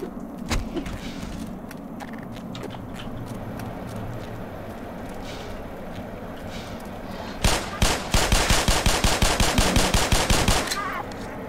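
Pistol fire in Black Mesa: after scattered clicks and clatter, a rapid string of loud, sharp shots rings out in quick regular succession for a few seconds, then stops.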